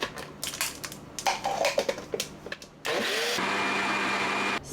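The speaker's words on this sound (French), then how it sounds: "on va mixer tout ça" A blender starts up after some clattering and handling noises, then runs in a steady loud whir for about two seconds, mixing a batter of banana, cinnamon, yeast and vanilla.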